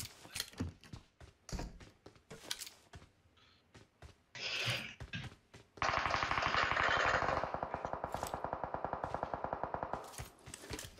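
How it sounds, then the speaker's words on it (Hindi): Gunfire in PUBG Mobile rings out as sharp, separate single shots, then a long, loud automatic burst with a rapid, even rhythm that trails off into more spaced shots. "वैसे गोलियों की साउंड आ रही है"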